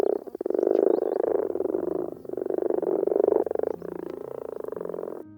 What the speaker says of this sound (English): It is the croaking of a common frog.